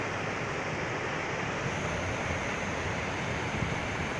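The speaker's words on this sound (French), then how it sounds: "Sacrée cascade." Mountain waterfall at about 1800 to 1900 metres altitude near Lago Verde in Italy, a steady, dense roar of rushing water that stays constant and fairly close, with no voices.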